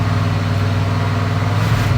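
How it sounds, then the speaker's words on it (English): A barn-find Chevelle getting a classic old-school tune-up with points, its engine running at a steady, fairly loud idle with a low, even rumble throughout. "Give the throttle a little stab."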